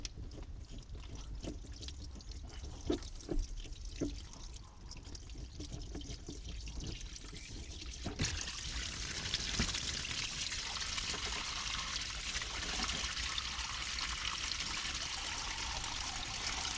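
Water draining from unscrewed Intex pool pump hoses into a garden, a soft trickle and drip that swells into a steady rushing flow partway through, fairly faint and with no talking.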